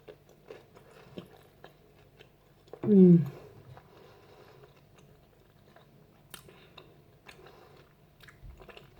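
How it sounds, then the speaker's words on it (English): A homemade double-wrapped fried spring roll with prawn tails gets one loud, close crunchy bite, followed by softer, quiet chewing against a low background hum. "I'll just show you another crunch."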